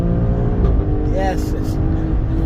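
Alfa Romeo Stelvio Quadrifoglio exhaust under acceleration, a loud continuous engine drone from inside the car with a rising tone, and someone speaks briefly over it.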